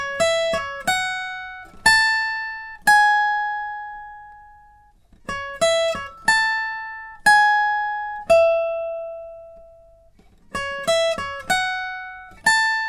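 Electric-style lead guitar plays a full intro solo, with clusters of quick plucked notes followed by long sustained ones, the phrase repeating three times with clear pauses between.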